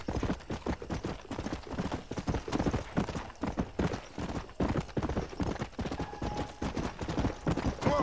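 Several horses gallop in Red Dead Redemption 2, a steady rapid clip-clop of hooves, fairly close, with a brief whinny, and no voices.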